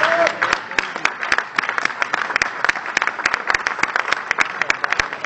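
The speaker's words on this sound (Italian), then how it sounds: "Il fatto che qualcuno applauda quando si dica qualcosa" Audience at an Italian political rally breaking into applause: scattered, uneven claps, fairly close and moderately loud, continuing in a loose patter without building to a full ovation.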